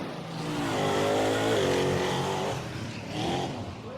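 A truck powered by a blown, alcohol-injected 572 big block Ford engine roars loudly up close, its pitch rising and wavering as it revs for several seconds, then swelling again.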